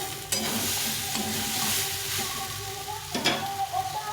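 Soybean curry being sautéed in a pan with spices, a dense close sizzle with repeated scraping stirs of a spatula and a couple of sharper clacks against the pan, no talking.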